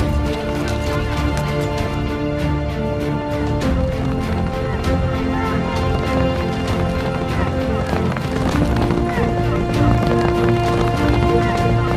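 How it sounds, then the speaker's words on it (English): Horses gallop in a village horse race, with steady loud hoofbeats and running mixed into dense crowd noise and voices, continuous throughout. "Then comes the inevitable horse race on which all the inhabitants of the village have placed bets."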